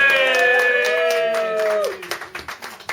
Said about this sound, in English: A little round of applause for the little Hobbit.